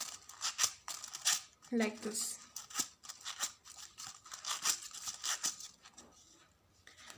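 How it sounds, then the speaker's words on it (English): Scissors curling paper strips for a craft wind chime, a close series of quick rhythmic scraping snips, with a person speaking briefly at a low level. "now just curl them using scissors from the bottom"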